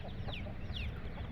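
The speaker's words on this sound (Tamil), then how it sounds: "கோழி அதையே பொறுக்கிருங்க" Chickens cluck softly while pecking at scattered rice on the ground, a few short calls standing out over a steady low background rumble.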